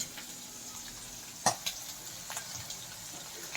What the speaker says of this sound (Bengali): এখানে আমরা হালকা পরিমাণে এই যে মাছটা যাতে গায়ে না গায়ে লেগে যায় তার জন্য মাছটা ভেজে নিচ্ছি